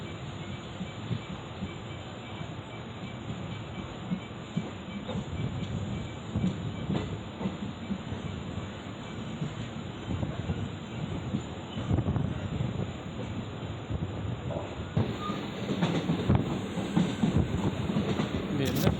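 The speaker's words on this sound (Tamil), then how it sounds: "நம்ம ட்ரெயின் கொல்லம் ஜங்ஷன்லேருந்து டிபார்ட் ஆகிட்டுருக்குங்க" The Guruvayoor Madurai Express pulls out of Kollam Junction, heard from on board. Wheels rumble and clatter with brief squeals under a steady high whine, and someone talks faintly now and then.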